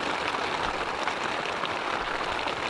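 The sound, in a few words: heavy rain falling on tent while moto camping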